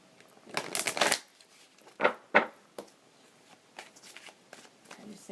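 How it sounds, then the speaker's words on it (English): A deck of cards shuffled by hand in a tarot or oracle card reading, with a long riffling burst followed by several shorter bridging and tapping shuffles, close and fairly quiet, with no talking. "So I'm going to shuffle."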